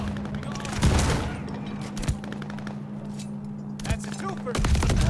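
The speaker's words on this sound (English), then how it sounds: "Now he's using a shotgun" Shotgun blasts in the Call of Duty Vanguard video game: several sharp, loud booms spaced a second or two apart, with a steady hum and game effects between them.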